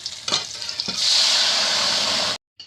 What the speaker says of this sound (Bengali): আম দিয়ে ভালো করে আমি নেড়ে নেব।